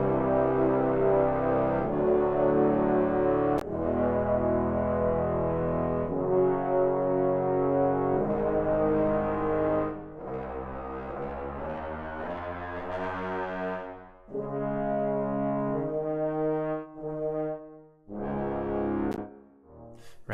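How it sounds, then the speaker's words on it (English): Warm, mellow low brass-like synth pads play sustained chords, shifting every couple of seconds with brief gaps, soft and smooth. "Here I've pulled up some low brass pads."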